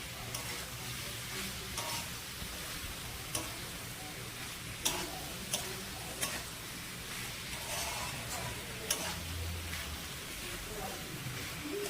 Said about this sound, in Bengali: এরপরে আমি দিয়ে দেবো ভেজে রাখা শামুক আর আলুটা, দিয়ে আলুটা আর শামুকটা এর সাথে ভালো করে কষিয়ে নেব।